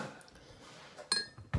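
A utensil stirring cinnamon into a drink: a few faint stirs, then a single sharp metallic clink against the cup and a soft knock at the end, quiet and close.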